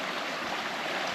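A small creek runs beside a forest trail near Kempt Falls in Ristigouche Sud-Est, Quebec, making a steady, even rush of flowing water with no voices.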